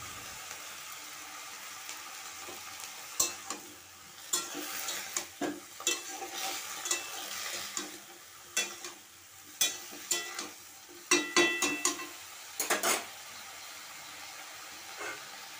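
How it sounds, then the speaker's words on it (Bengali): Potato and eggplant pieces frying in oil with salt and turmeric, a soft sizzle broken by repeated bursts of a spatula scraping and stirring against the pan, irregular and close. "এরপর তেলের সঙ্গে আমি একটু মিশিয়ে নিচ্ছি, তারপর নুন হলুদ দিয়ে এটাকে আমি ভেজে নেব"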